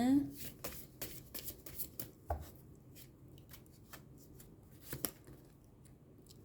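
Tarot cards are shuffled by hand in a series of quick riffling and slapping bursts, irregular and fairly close, with a soft voice at the very start.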